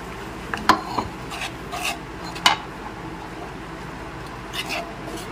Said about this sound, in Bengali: নেড়েচেড়ে মিশিয়ে নিচ্ছি